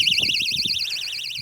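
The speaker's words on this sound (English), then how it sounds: "I have a beeping basket with extra visibility on the bottom" A loud electronic alarm mounted on a disc golf basket emits a continuous warbling siren-like tone that rises and falls rapidly, with low thumps underneath.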